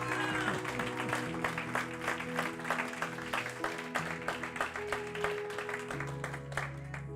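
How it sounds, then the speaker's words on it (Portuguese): A church congregation applauds during a worship service, rhythmic clapping over sustained music with held chords, moderately loud and continuous throughout. "Aplauda o Senhor Jesus"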